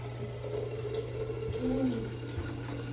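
Water runs steadily from a tap with a soft hiss, close by and fairly quiet, under a low background hum.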